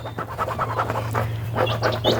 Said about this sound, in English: I'm sorry about the dogs, you guys. They're in the kennel right next to my studio.